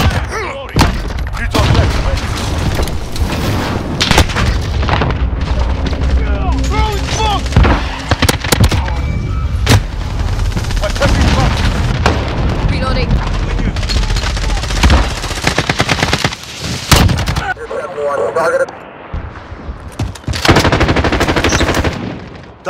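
Modern Warfare 2019 on PS5, with an AK-12 in play: dense automatic gunfire and thumping impacts run almost without a break, loud and close, while shouted in-game voices come through now and then.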